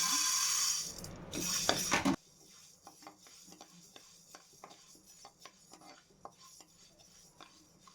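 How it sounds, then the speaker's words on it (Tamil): Jowar (sorghum grain) dry-roasting in a pan while being stirred, giving light, irregular scraping clicks at a steady pace after a brief loud rushing burst at the start. "இப்போ வந்து ஜோவர் வறுக்கலாம்"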